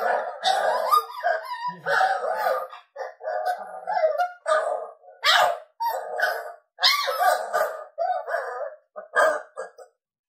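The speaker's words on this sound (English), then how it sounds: "This is last sound, and this is just some pup howls." Coyote pup howls played from a Boss Coyote Mayhem Pak electronic caller: a rapid string of high, wavering yips and short howls in bursts with brief gaps between them, loud and clear against silence.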